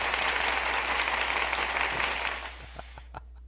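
A canned applause effect on a podcast, with a broad wash of crowd clapping held steady for a couple of seconds before fading out, followed by a few sparse, close taps near the end.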